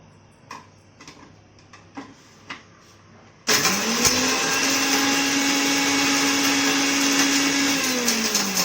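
Mixer grinder grinding a lump of asafoetida, starting with a few soft clicks and taps before the motor kicks in with a loud, steady whine that runs continuously to the end.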